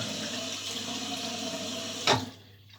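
Running water from a tap pours steadily while shaving soap is lathered, a close, continuous hiss that ends with a short splash as the flow stops, no talk over it.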